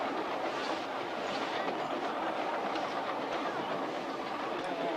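A passenger train on the move, with a steady rumbling roar and faint rhythmic rattling heard from inside the carriage throughout.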